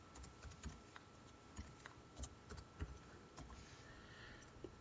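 Quiet, irregular tapping on a computer keyboard, with keys struck in uneven bursts and short pauses against a low background hiss, and no one speaking.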